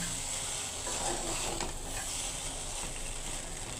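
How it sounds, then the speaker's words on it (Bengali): Leftover rice frying in a pan makes a soft, continuous sizzle with light scraping from stirring, heard close and fairly quiet with no voices. "ভাতগুলা ভাজি করে নিচ্ছি।"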